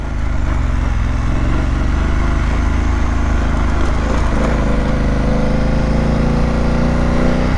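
A 2025 BMW F900GS motorcycle engine riding off-pavement on a mountain road, a loud, steady close-up drone with the revs dipping and climbing through gear changes, continuous throughout.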